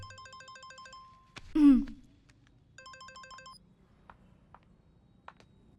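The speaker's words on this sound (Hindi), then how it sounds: "फोन।" A phone ringing in a Hindi action thriller film: electronic ringtone bursts repeat in a rhythmic pattern, are cut by a sharp clatter, then ring again briefly before quiet clicks.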